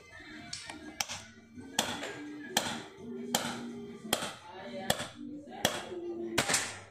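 A series of sharp cracks, about nine in a fairly even rhythm, pop up close by while a voice talks quietly underneath: a PCP air rifle firing Hercules pellets at a target in an accuracy test.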